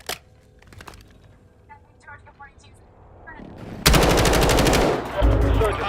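Automatic gunfire in a holiday multiplayer shooter video game, a dense burst of rapid loud shots erupting in the final two seconds after quieter game sounds and brief voice callouts.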